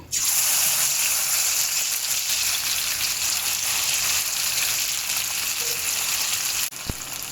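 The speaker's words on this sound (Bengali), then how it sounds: "এখানে আমার তেল গরম হয়ে গেছে। এবার আমি এই মাখানো চিংড়িগুলো সব দিয়ে দেব।" Marinated shrimp dropped into hot oil in a wok give off a loud, dense, steady sizzle and crackle close up, holding strong throughout before a brief clatter near the end.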